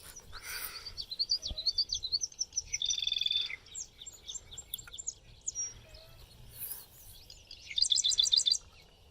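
A secretive marsh bird held in a weighing tube during banding, with bursts of high, rapid chirps and trilled calls, some repeated in quick pulses, standing out over a quiet outdoor background.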